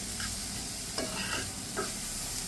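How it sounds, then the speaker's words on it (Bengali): Onions fried in oil are turned with a slotted spoon, a steady close sizzle with a few brief scraping stirs, no voices. "এখন আমি জাল দিয়ে উল্টে পাল্টে আরেকটু ভেজে নেব"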